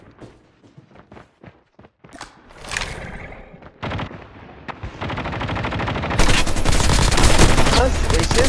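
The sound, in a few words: gunfire in a video game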